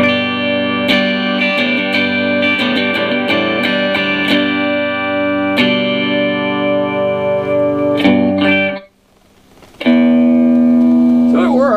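An electric guitar rings through a Spark amp with no modulation or reverb, strummed chords and picked notes, loud and close, a brief dip, then a sustained chord.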